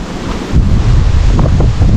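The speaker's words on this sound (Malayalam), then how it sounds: "ഭയങ്കര കാറ്റുമാണ് കേട്ടോ ഇവിടെയൊക്കെ" Strong wind blasts across a mountain viewpoint facing Agasthyarkoodam peak, a loud rushing roar buffeting the microphone, rising sharply after a brief moment and holding steady.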